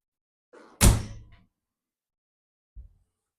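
A 1968 VW Beetle car door shut with a single solid, close slam after a faint rattle, the thump decaying quickly, then a soft low knock moments later in otherwise quiet surroundings.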